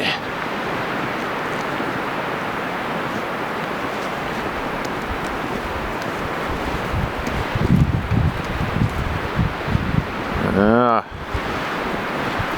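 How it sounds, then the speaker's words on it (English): Strong blizzard wind roars steadily against the microphone at a winter campsite, a loud continuous rush that swells and gusts toward the end. "it's still really windy"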